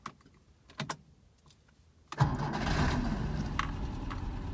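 A few faint clicks and jingles, then a warm Skoda Favorit 136L engine cranks and catches, settling into a steady idle rumble nearby.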